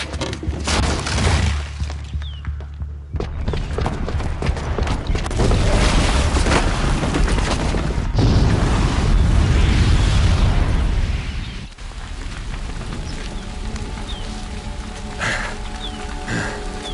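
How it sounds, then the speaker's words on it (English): A booby-trapped bomb detonates in Horizon Zero Dawn, a loud sustained roaring blast with heavy low rumble and debris crackle lasting several seconds before fading into a quieter rumbling tail. "the booby trap on the bomb downstairs is gonna get set off"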